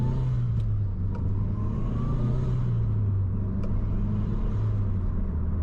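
A Mitsubishi Evo 7 with a loud aftermarket exhaust drives down the road, its engine a constant deep droning rumble heard close up from inside, the pitch rising and falling slightly as it accelerates, with no talking.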